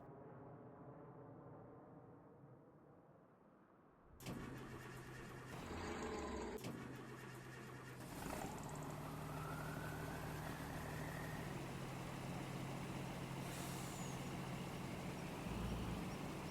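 A truck engine in Farming Simulator, set in a zombie outbreak scenario, cranks into life after a few quiet seconds, then settles into a steady low idle that keeps droning to the end.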